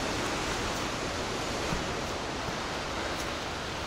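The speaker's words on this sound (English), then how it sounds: "Finally got to the waterfall." The Cascade du Dard waterfall near Chamonix, reached on a mountain hike, gives off a loud, unbroken roar of falling water that stays steady and close throughout, with no speech.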